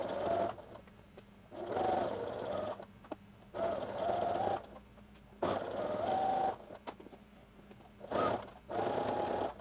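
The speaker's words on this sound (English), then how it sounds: "So I'm just going to go ahead and edge stitch all the way up now." Sewing machine running in several bursts, edge stitching up a button placket on a Simplicity 9888 dress, each run a steady whirring hum a second or so long with short pauses between.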